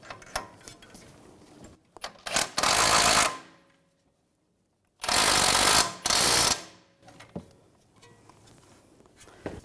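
Wrench or ratchet tightening the outer tie rod nut on a 2006-2010 BMW 550i, heard as short bursts of loud, dense mechanical ratcheting in two main clusters separated by a silent pause, with lighter clicks and taps around them.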